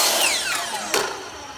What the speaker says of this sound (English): you hold the piece in place and you go ahead and make your cut